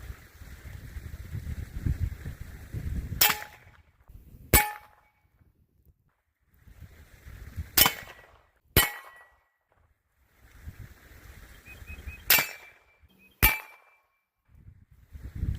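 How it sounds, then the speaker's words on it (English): Suppressed .40 S&W gunshots through a Dead Air Wolfman suppressor crack sharply outdoors, about six shots in loose pairs with quiet gaps and faint wind noise between them. "I'm shooting out of a 40 Smith & Wesson magazine."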